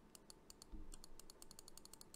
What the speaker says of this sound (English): I'm right-clicking, and it's not planting.